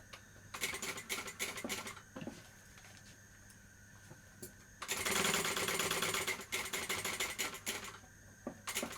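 Sewing machine top stitching a Brentwood backpack, running in short close bursts with brief pauses between, then one longer steady louder run before more stop-start stitching.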